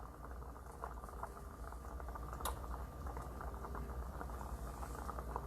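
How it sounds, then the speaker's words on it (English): Beef stroganoff bubbling in a pan on the stove, a faint steady simmer with soft pops and one sharp click partway through, no voices. "oh, bubbling again"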